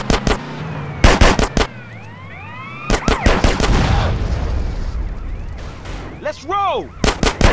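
Sharp gunshots ring out in a drive-by in the video game GTA San Andreas, fired from a modded Audi RS7 wide-body car: loud single cracks and quick clusters, with siren wails and engine noise between them and a brief spoken line.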